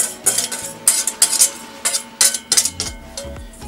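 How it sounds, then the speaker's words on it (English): A utensil scrapes and clinks in a bowl, stirring the dry ingredients for a moist chocolate cake in a quick, irregular rhythm of strokes. "first step, we're going to mix all our dry ingredients here"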